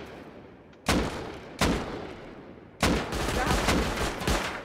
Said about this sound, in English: You want to try and shoot it out?